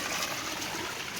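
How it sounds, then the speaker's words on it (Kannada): A small rain-fed stream in a garden during the monsoon flows with a steady, close rushing and trickling wash, continuous and unbroken, with no voices. "ಮಳೆ ಬಂದಿರೋದ್ರಿಂದ ಸ್ವಲ್ಪ ಕೆಂಪು ಕಲರ್ ಬಂದಿದೆ, ಇಲ್ಲ ಅಂತಂದರೆ ಶುದ್ಧವಾದ ನೀರು ಹರಿಯುತ್ತೆ"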